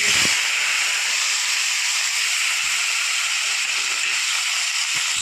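Onion and tomato land in hot oil with spiced tempering for a chickpea curry, giving a loud, even hiss that holds steady for several seconds, close by, with a few faint knocks underneath.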